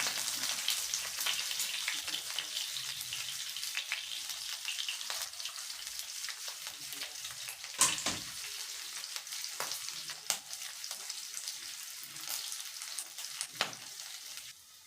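Chopped green chillies and onions fry in hot oil for an Andhra-style ivy gourd chutney, giving a steady, dense crackling sizzle that runs throughout, close by, with a few brief clinks and stirs and no talking.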